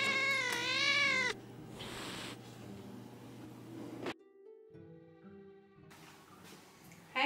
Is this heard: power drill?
no